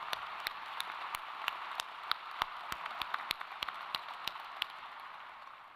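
Audience claps at a Rutgers School of Management and Labor Relations Class of 2023 convocation ceremony: sharp, separate hand claps ring out at a moderate distance over a steady hiss of room noise, irregular and fairly sparse.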